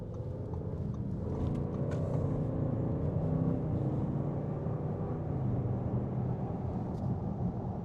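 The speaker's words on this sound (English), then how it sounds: "hear the burble of V8." A 2025 Audi S8 V8 sedan burbles with a low, steady engine rumble while cruising in comfort mode, constant and moderately loud from inside the car.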